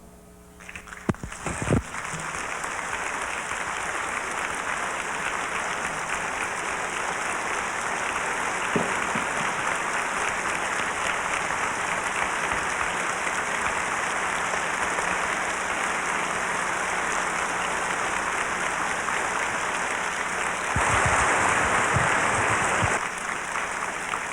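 Sustained applause from a banquet audience as speakers stand at a science fiction convention dinner, a broad steady clatter of many hands that swells slightly near the end before tapering.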